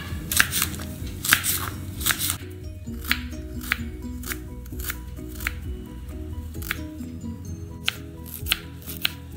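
Knife cutting green chillies, ginger and curry leaves in a home kitchen, a series of sharp close chopping taps in an irregular rhythm over a soft background hum.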